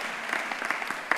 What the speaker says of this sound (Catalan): jo demano un aplaudiment per tots